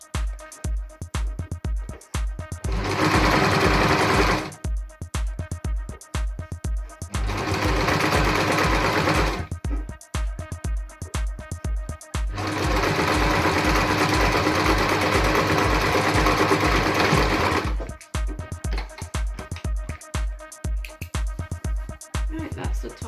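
Sewing machine stitching the edge of a fabric face mask, running in three loud continuous bursts between stretches of a quieter rhythmic mechanical ticking, close up with no talking.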